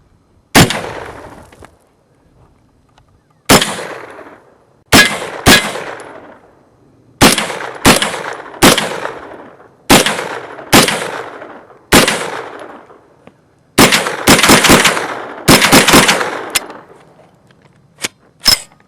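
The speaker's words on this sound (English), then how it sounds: "Reliability test for the Glock magazine, 17 rounds of 9mm, a few hollow points, a few full metal jackets." Pink 9mm carbine shooting hollow point and full metal jacket rounds from a 17-round Glock magazine, a long string of loud, crisp shots, first spaced about a second apart, then bunched into quicker bursts near the end, with ringing decays.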